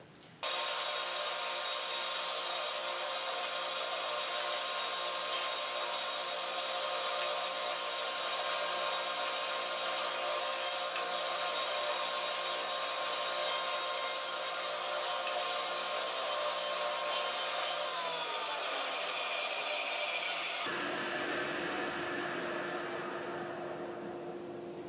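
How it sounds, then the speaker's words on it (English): A thickness planer feeding glued-up laminated wood strips produces a steady, loud, high whine and rushing cut that holds for about twenty seconds, then drops to a lower motor hum as the board exits. "Now I need to run these through my planer to remove the excess glue."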